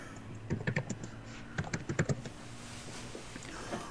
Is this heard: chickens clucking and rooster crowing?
no